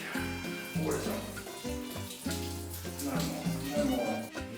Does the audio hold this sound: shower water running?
yes